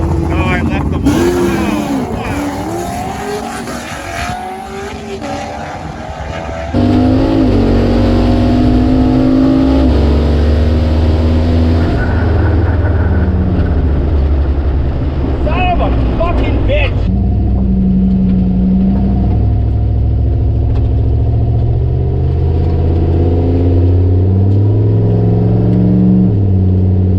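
A turbocharged 6.0 LS-swapped Fox-body Mustang at a drag race staging on the two-step, then launching with a loud sustained engine roar that holds steady, while people talk over it.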